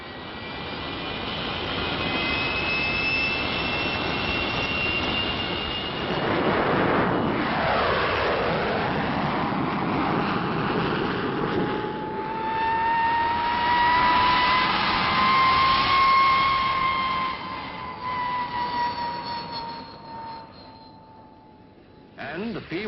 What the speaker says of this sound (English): And the P-1067, the fastest fighter flying today.